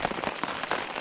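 Rain patters on a tent during a windy February wild camp in the Cheviot Hills, a dense close spatter of drops with no voices.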